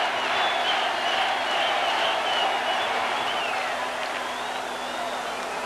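Stadium crowd at a 1982 World Cup qualifying football match between Venezuela and Brazil claps steadily throughout, a dense, continuous wash of applause and crowd noise with a commentator's voice running over it.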